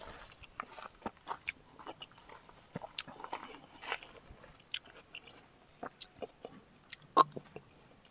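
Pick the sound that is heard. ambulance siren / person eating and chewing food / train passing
person eating and chewing food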